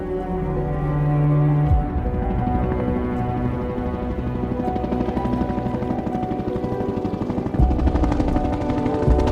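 A helicopter drones close and steady with a fast rotor chop, its pitch shifting slightly as it flies, alone with no talking.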